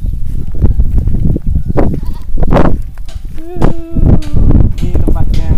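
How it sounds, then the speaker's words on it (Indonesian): Goats bleat repeatedly at a rest area, with several loud, wavering calls close by and overlapping, and a person talking faintly underneath. "kambing"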